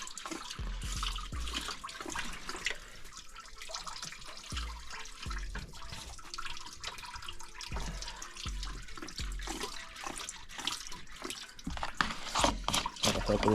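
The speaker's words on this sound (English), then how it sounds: "try to get as much fluid as possible out, as much coolant out." Coolant drains and splashes out of the engine hoses of a Mustang GT as they are squeezed, a continuous trickling, dripping flow of liquid up close.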